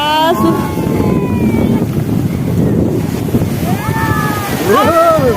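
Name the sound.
ocean waves crashing on the beach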